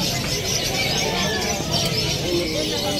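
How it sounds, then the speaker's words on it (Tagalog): Pigeons coo over a busy outdoor background, with people talking nearby. "Mga kalapati."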